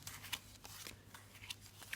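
Tarot cards are shuffled and laid down in soft, faint papery flicks and light taps, spread irregularly through a quiet moment with no talking.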